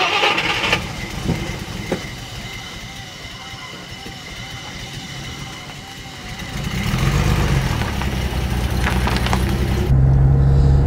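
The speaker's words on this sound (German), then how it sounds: "Dieser große Motor im Leerlauf läuft ganz, ganz sacht." A 1959 Mercedes 300 d Adenauer state limousine with a large diesel engine idles very gently; a soft, even low rumble swells in the second half after quieter, mixed noise at the start.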